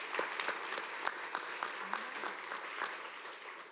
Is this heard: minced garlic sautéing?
no